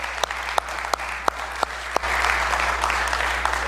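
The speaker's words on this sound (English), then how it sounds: "Let's actually give them a round of applause quick," A church audience claps together, starting with a handful of sharp, spaced single claps that swell into full, steady applause from a nearby crowd.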